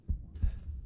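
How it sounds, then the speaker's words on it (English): A heartbeat thumps in the Resident Evil Village video game, two low, close beats in quick succession over a faint hum. "Oh, you can hear a heartbeat."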